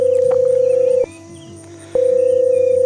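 A FaceTime call rings out as a steady electronic tone, cut by a short gap and then resuming, clear and close with engine-like hum faintly underneath.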